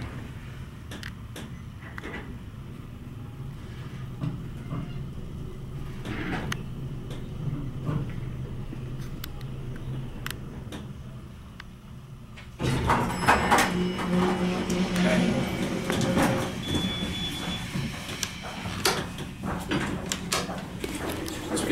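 A vintage 1970s Otis traction elevator in the Yalem Research Building at Barnes Hospital travels between floors. A steady low mechanical hum gives way midway to a louder, busier rumble with rattles and clicks.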